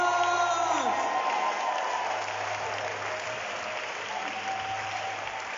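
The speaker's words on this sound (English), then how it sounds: "Can I hear you clap your hands with a standing ovation?" A church congregation gives a standing ovation during a worship service, steady applause filling the room for several seconds with scattered cheers and whoops mixed in.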